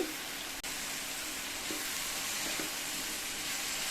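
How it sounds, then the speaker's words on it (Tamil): Tomatoes and vegetables for chutney sauté in a pan with a steady, fairly quiet sizzle, broken by a few faint stirring scrapes. "மறுபடியும் நல்லா 1 நிமிஷத்துக்கு வதக்கி விட்டுக்கலாம்"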